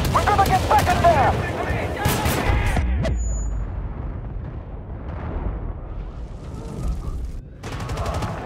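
An explosive charge detonates in Battlefield Bad Company 2 with a loud, deep blast and crackling debris amid ongoing gunfire, while voices talk over the battle noise.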